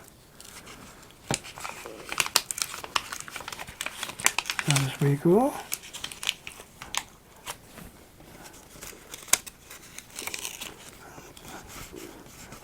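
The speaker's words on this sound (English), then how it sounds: "So we'll peel a little bit more of the backing paper." Backing paper peeled off an archery bow during refinishing, giving crinkly, crackling tears that come in short bursts across the clip, close by, with someone talking over and between them.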